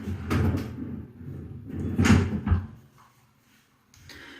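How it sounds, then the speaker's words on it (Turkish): A drawer is pulled open to take out a hair straightener at home, giving a few woody knocks and a sliding rumble close by, then a short pause and a faint shuffle. "Şimdi hemen düzleştiriciyi çıkarayım çekmeceden."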